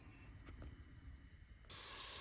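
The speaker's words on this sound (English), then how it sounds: "We start by adding a stick of butter to the pot and we toss in the onions and celery" Onions and celery hitting melted butter in a pot: a quiet background before a sudden loud, steady sizzle that starts near the end and keeps going.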